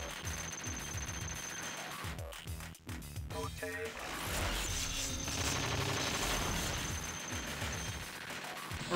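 Bombs and gunfire in the shooter video game Giga Wing: dense rapid bursts of shots and explosive blasts layered over game music, with a voice talking briefly partway through.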